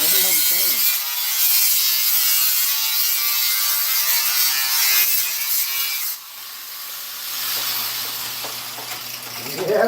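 Metal being ground in a car garage during a wide-body build, a harsh, continuous, loud grinding rasp that fills the whole stretch with only slight dips in intensity.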